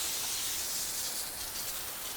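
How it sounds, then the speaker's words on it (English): Spray nozzle misting a light coat of water onto a building joint, a steady soft hiss heard close up and alone for the whole moment. "A light coat, just enough, and this spray nozzle does perfect, just to seep down into the joint"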